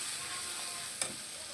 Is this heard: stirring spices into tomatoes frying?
yes